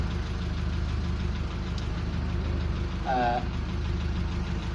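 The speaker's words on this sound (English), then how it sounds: "we just got a tractor to come to visit us here" A tractor engine runs nearby with a steady low, knocking rumble throughout, close and continuous, with a brief higher tonal sound partway through.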